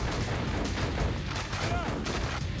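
Steady barrage of light gun shots in the Dreamcast shooter Confidential Mission, booming game gunfire and blasts running continuously without pause, loud and dense from start to finish.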